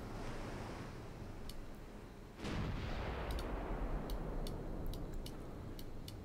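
Distant battlefield fire in the strategy game DIP v2: a muffled, rumbling wash that swells abruptly partway through, with scattered faint sharp ticks above it and no voices.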